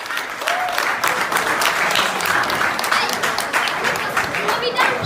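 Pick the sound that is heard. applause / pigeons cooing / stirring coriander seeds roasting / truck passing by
applause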